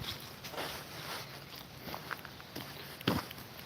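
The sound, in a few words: footsteps while out walking the dog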